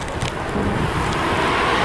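A car passes on a road as a broad, close whoosh of tyre and wind noise that swells steadily over the short moment, with no talking.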